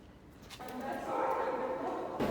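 Distant dogs bark and yip faintly amid outdoor noise and background voices.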